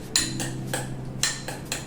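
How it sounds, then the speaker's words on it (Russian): Sweet potato being stirred with salt and pepper, giving several sharp clinks of a utensil against a bowl at an irregular rhythm over a faint steady hum. "Все как следует перемешиваем"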